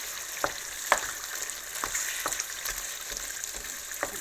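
Ground meat sizzling in a pot for a pasta ragu: a steady bright frying hiss runs throughout, broken by a few sharp crackles and pops, close and moderately loud with no talking.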